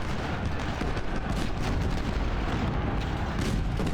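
Cannon artillery fire from the Ultimate General video game at the battle of Gaines Mill, a dense, continuous rumble of booms and crackling shots, steady and loud throughout with no voices.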